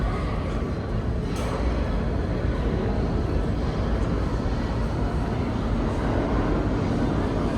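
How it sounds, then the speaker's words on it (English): A New York subway train approaches through Canal Street Station, a loud, steady low rumble filling the platform for the whole stretch with no voices. "I hear another train coming."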